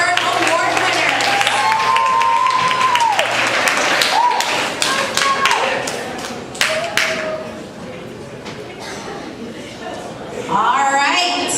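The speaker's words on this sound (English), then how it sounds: "Big round of applause for our Silver Award winners." A school awards ceremony audience claps for Silver Award winners, scattered, uneven claps and thumps heard alongside a voice over loudspeakers and some music.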